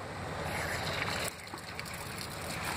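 Water sprays steadily from a shower fed by a solar water heater mounted on a van, a close, continuous hiss that drops slightly in level partway through.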